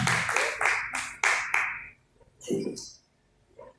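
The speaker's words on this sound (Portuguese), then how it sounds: "podem glorificar com as palmas bem forte para Jesus" A church congregation claps hands in a handful of strong, separate bursts, then the clapping stops and scattered voices and faint sounds follow.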